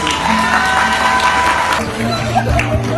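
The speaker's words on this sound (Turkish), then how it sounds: "Kocaman bir alkış alabilir miyiz?" An audience breaks into applause and cheering for a surprise, a dense wash of clapping with crowd noise that holds steady for the whole stretch, with voices mixed in.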